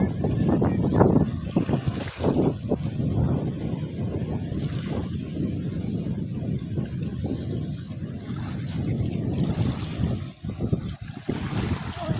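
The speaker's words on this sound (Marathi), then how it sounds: "किती मोठं लाटा आहे" River water churns and laps near a riverside jetty, a rough, rushing wash mixed with heavy wind buffeting the microphone, loud and close throughout with bursts and gusts.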